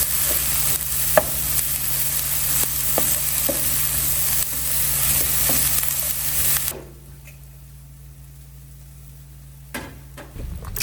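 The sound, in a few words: kale frying in bacon grease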